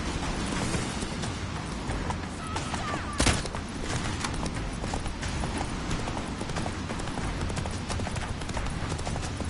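Roach the horse galloping in The Witcher 3, a dense, continuous rush of hoofbeats with a loud thump partway through and constant game noise.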